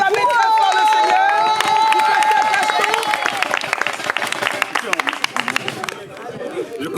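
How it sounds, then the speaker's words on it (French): Church congregation at a communion service in Paris cheering and applauding together, a steady wash of claps and crowd voices that stays loud throughout, with a sung or held tone near the start. "Est-ce qu'on peut acclamer très fort le Seigneur?"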